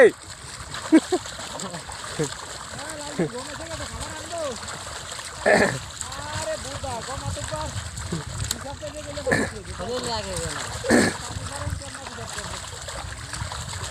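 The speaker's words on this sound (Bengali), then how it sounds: "পাট ধোয়ার প্রতিযোগিতা চলতেছে" Village farmers washing golden jute fibre in water during a washing contest, repeated loud splashes and sloshing bursts every few seconds over a continuous watery wash, with voices chattering and shouting underneath.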